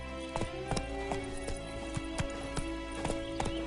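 Roach, the horse in The Witcher 3: Wild Hunt, gallops in quick, close hoofbeats that land in an uneven drumming rhythm over steady game music, with no voices.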